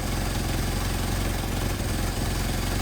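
Mercedes-Benz 190SL engine idling on its Solex carburetors, a steady close rumble with an even low throb and no talk.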